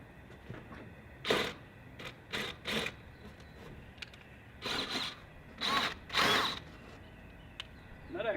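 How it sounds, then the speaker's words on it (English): An electric drill whirs into stucco in several short bursts of varying length, fairly close, with quiet pauses between them and no talking. "I'm not going with the hammer drill yet. I'm going to use the regular drill."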